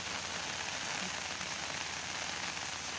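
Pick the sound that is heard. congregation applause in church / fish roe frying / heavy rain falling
heavy rain falling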